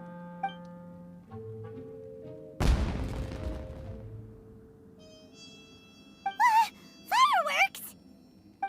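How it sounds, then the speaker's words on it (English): A burst of fireworks explodes in Genshin Impact, a sudden loud broadband blast that crackles and fades over a couple of seconds, amid game music and chimes, followed by bright whistling, warbling tones. "It sounded like fireworks."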